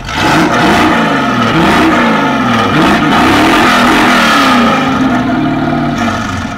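A loud American car engine at a car meet revs up and down repeatedly, its exhaust pitch rising and falling in throaty surges, close and continuous.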